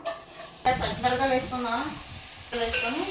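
Oil poured into a hot kadai for chicken biryani sizzles, with stirring and tonal clatter as the pan heats. A few abrupt loud bursts are heard, close by.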